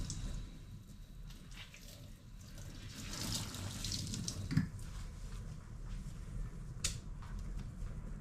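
Tap water running into a kitchen sink during cooking, a soft continuous splashing and trickling with a few brief drips and clinks, fairly faint and without talking.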